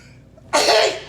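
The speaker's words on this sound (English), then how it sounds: "Sneeze approaching." A single loud sneeze bursts out close by after a quiet moment, a sharp broadband blast that trails off over half a second.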